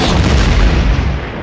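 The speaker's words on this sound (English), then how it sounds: "My basketball is making explosion sounds." A loud, booming explosion-like roar comes from a cartoon basketball, a dense rumbling blast that fills about a second and a half before starting to fade.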